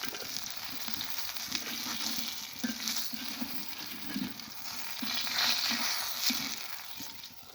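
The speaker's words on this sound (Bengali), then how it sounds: "মাছগুলো মচমচে করে ভাজা হয়ে গেছে" Fish fries crispy in hot oil, a steady close sizzle with a low bubbling pulse and occasional crackles, swelling a little louder toward the end, with no voices.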